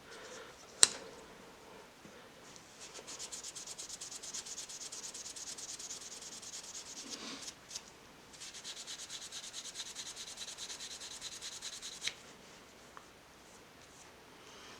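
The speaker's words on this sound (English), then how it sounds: "I think this is 1500 grit sandpaper. Just gonna take those to the bolster." Wet sanding with 1500 grit sandpaper on the bolster of a vintage Ka-Bar jack knife gives rhythmic, quiet back-and-forth rubbing strokes in several runs, with a few light taps between them.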